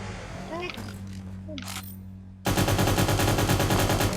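Rapid automatic gunfire bursts out loud and dense halfway through, from a match of the shooter video game Cyber Hunter, after a quieter stretch of game ambience with faint vocal sounds.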